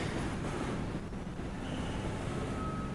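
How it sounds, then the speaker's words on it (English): Train rumbling in the Truck World Australia driving game, a steady broadband roar of rolling wagons and road noise that holds evenly throughout with no talk. "The train is also driving away, and yet I can hear it."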